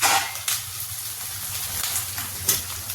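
Onions sautéing in a pan for vegetable biryani, a soft steady sizzle with faint bubbling crackle and a few brief louder pops, close and continuous with no voices.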